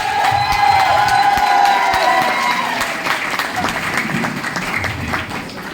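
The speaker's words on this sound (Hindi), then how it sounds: "जबरदस्त तालियों से स्वागत करें।" Loud applause from a training-session audience in Gurgaon welcoming new members, with cheering and whoops mixed into the clapping, while a voice carries over the start and the applause stays strong before easing slightly.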